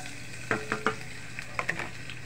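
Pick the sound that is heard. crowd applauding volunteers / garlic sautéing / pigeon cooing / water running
garlic sautéing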